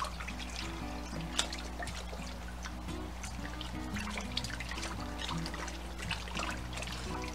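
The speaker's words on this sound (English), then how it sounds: "now we want to wash the hog maws and the salt and vinegar mixture" Hog maws being washed by hand in a sink of salt and vinegar water, a steady close trickle and slosh with scattered splashes and clicks over a constant low hum.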